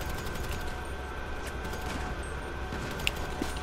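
Gunfire in a video game firefight, with steady faint shots and a couple of sharper reports under a constant game background hum, no voices.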